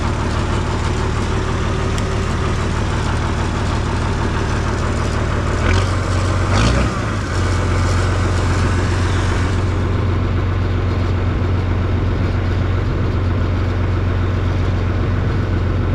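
A farm tractor runs steadily while being turned around during corn planting, a loud, continuous low engine rumble close by with a brief shift in pitch partway through.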